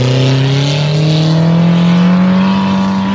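A 4x4 labours up a sand dune, its engine roaring loud and close in a long, strained drone that climbs slowly in pitch without letting up.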